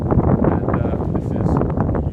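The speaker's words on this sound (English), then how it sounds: "Wow, it's windy out here." Wind gusts buffet the microphone outdoors on a dock at a deserted beach at sunrise, a rough, rumbling rush that stays loud throughout.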